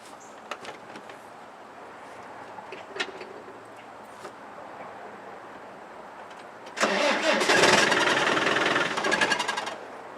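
A diesel engine with an injector pump cranks with faint rhythmic clicks, then catches abruptly and settles into a loud, rough, clattering idle close by.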